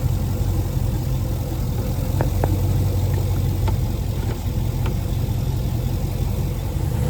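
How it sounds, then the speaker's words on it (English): A 6.0L inboard engine on a 2020 Mastercraft XT21 boat runs at slightly raised RPM, giving a steady, even drone with a constant low hum and no voices. "I bumped up the RPMs a little bit, try to bring it up to temperature"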